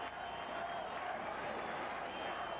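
Big baseball crowd at Shea Stadium during a Mets home game against the Reds, a steady distant roar and murmur of many voices filling the park without distinct cheers.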